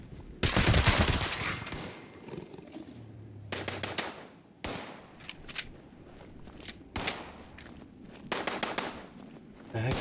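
Bursts of automatic gunfire in the Fallout 76 video game at Grafton Steel, with a loud rapid volley early on, then several shorter separated bursts of shots.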